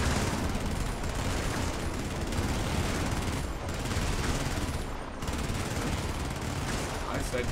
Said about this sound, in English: I'm shooting blindly up here.